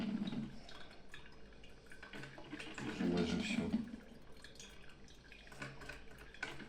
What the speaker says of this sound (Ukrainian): Вона буде доганяти повністю вся вода, яка там є, вона всю її сюди закине, поки не замовкне.